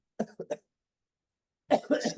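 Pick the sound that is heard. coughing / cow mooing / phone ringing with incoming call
coughing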